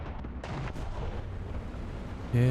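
A tank gun fires in War Thunder around a Sturmtiger and M42, sounding as a few booming blasts with rumbling tails, loud and close, followed by a brief tonal game sound at the end.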